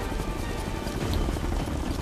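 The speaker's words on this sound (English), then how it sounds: "Where's the helicopter at?" Helicopter in the video game Ghost Recon Future Soldier, a steady rotor drone holding at an even, moderate level for the whole stretch, with no talk over it.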